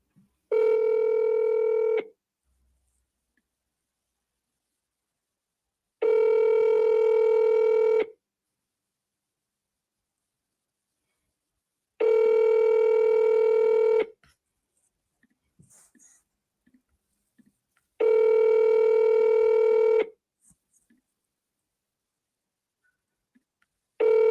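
Telephone keypad dialing tones sound in four long, loud, evenly spaced beeps, each about two seconds, with near silence and faint rustles between them.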